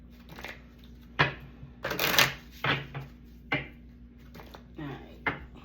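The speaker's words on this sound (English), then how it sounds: "Give it a good shuffle." Cards being shuffled in several quick riffles and taps, fairly close, with brief pauses between bursts.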